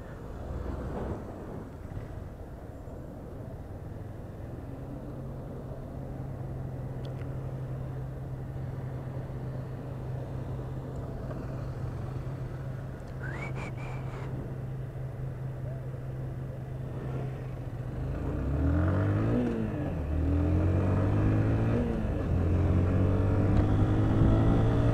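A DK 150 motorcycle on the road, its engine humming steadily under wind rush, then rising in pitch as it accelerates and shifts gears toward the end.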